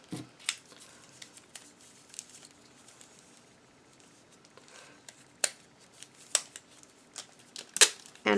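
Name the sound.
trimming pieces with scissors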